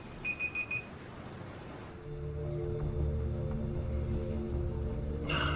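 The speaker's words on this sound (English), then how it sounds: "Stupid alarm." A beeping alarm going off in the video game Twin Mirror, a few quick electronic beeps at first, then giving way to a steady, droning tonal hum that holds to the end with no one talking.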